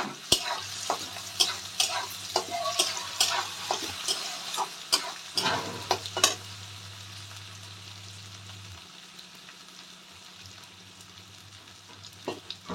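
Potatoes and pointed gourd curry stirred in a wok, a spatula scraping and clattering in bursts over a steady close sizzle of frying, busiest in the first six seconds and then calmer.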